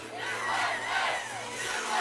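A large crowd at a presidential inauguration cheers and chants, a dense continuous roar with a rising and falling collective voice, loud and steady throughout.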